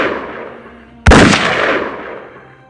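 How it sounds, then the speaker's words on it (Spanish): A single loud gunshot cracks sharply after a quiet stretch, fired inside a house, its blast ringing out and decaying slowly in a reverberant space. "2 disparos más se pudieron escuchar dentro de aquella casa"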